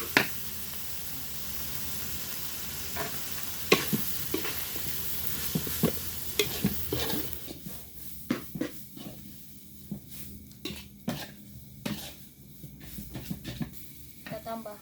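Bihun rice noodles stir-fried in a pan: a soft frying sizzle under repeated scraping and tossing strokes that come in irregular bursts, getting sparser and more distinct toward the end.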